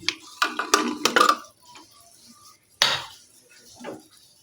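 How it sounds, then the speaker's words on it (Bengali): A pressure cooker lid comes off after a mutton dish rests off the heat, giving several sharp metallic clanks and scrapes up close, followed by a brief hiss and a faint clatter. "দেখো কিছুক্ষণ পরে আমি ঢাকনাটা খুলছি"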